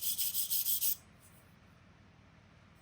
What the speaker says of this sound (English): Then we'll scrape it off with a wire brush.